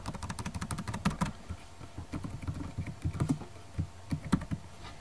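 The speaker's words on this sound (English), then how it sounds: "I want you to guess what I'm typing" Rapid clicking keystrokes on a computer keyboard, a fast burst at first, then a looser, irregular typing rhythm, close and clear with no talking.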